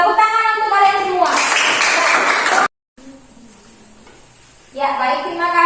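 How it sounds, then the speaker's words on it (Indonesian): A burst of classroom applause from a group of students, a couple of seconds of dense clapping between stretches of a teacher talking. "Tepuk tangan untuk kalian semua."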